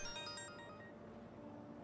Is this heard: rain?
no